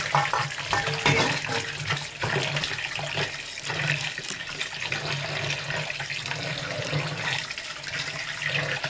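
Flour dough is washed under running water, a steady splashing and trickling stream with irregular gurgles and swishes as the dough is worked by hand, moderately loud and continuous.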